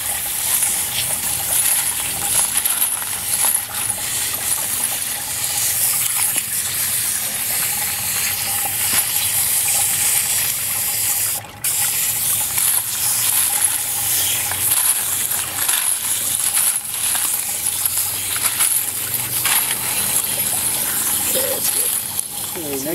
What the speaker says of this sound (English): You're going to rinse off the soap and the lemon shine a little bit.